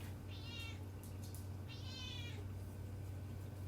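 A house cat meows twice, softly and a little distant, over a constant low background hum, with about a second and a half between the two calls.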